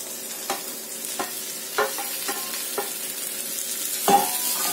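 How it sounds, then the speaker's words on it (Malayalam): Sliced mushrooms and onions fry in a pan, a soft steady sizzle broken by repeated scraping stirs of a utensil, close and fairly quiet with no voices. "നമുക്കിനി ഇതിലേക്ക് നമ്മുടെ കൂണിന് ഇട്ട് കൊടുക്കാം."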